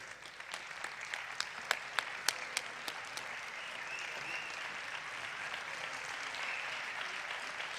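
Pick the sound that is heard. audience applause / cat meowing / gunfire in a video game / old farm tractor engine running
audience applause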